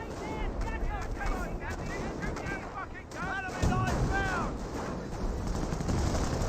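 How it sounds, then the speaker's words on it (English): Artillery barrage in the WWII strategy game Company of Heroes, a continuous rumble of distant explosions and gunfire with repeated whistling shells falling, a sharper impact near the middle, all under a talking voice. "The barrage could have been much worse there."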